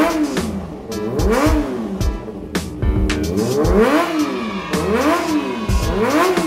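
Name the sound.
Ninja ZX25R motorcycle engine revving in video game GTA 5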